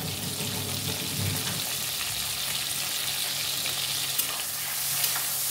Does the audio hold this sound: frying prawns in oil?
yes